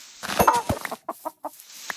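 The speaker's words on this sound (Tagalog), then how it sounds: "Chicken." Chicken in the video game Minecraft, a few short close clucks in quick succession followed by a pair of softer separate clucks, with no talk.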